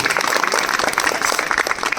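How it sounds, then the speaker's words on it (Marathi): Audience clapping at a Lupin Foundation women's empowerment programme, a dense, steady round of applause filling the whole moment with no voices over it. "या लुपिन फाउंडेशनसाठी एकदा जोरदार टाळ्या झाल्या पाहिजे।"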